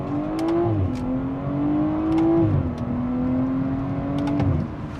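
Modded BMW 340i M-Sport with its B58 engine and open exhaust accelerating hard, the engine note climbing steadily through several gears with brief dips at each shift, loud and close throughout.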